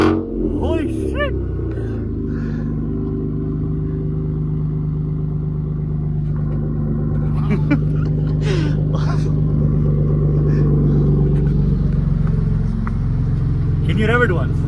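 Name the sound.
Ford Raptor engine starting, very loud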